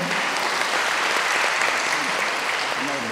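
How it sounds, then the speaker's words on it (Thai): Sustained applause from an audience at a volunteer medical training event held at Nong Nooch Garden in Pattaya, steady and dense throughout, with a voice faintly present underneath. "ท่านยุวัฒนะคะปรบมือดังๆให้กับท่านด้วยค่ะ"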